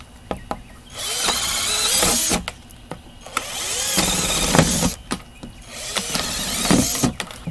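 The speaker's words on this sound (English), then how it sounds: "I just poked some holes in there with the drill" A power drill whirs in three separate bursts, drilling holes in a potato-growing container, each spinning up and winding down, with short pauses and clicks between them.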